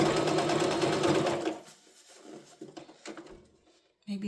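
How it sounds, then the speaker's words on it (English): A sewing machine stitches a Y2K heart-shaped purse, a steady rapid whir for about a second and a half, then quieter intermittent clicks and handling noises, and the motor starts again at the end. "I got to hear this sewing machine sound a lot."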